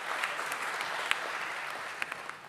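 An audience at the Metropolis Healthcare Limited listing ceremony welcomes a speaker with steady applause. A dense, even wash of clapping from a large crowd carries on throughout, heard from some distance with a few sharper claps standing out.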